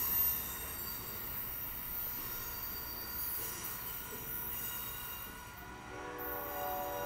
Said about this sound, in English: there go that train on its way to Seattle